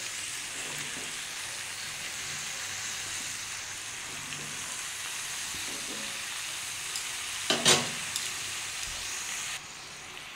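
Spinach and eggplant sizzle steadily in a hot pan of fish-head curry base, a continuous bright frying hiss with a brief louder crackle burst near the end, no voices.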